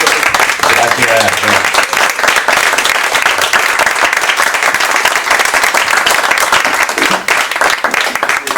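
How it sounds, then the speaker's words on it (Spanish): Loud, close applause from an audience honoring Antonio at a comics event presentation, with dense, crisp hand claps continuing steadily throughout and some voices mixed in at the start. "quiero que vosotros también lo hagáis en forma de aplauso, a Antonio"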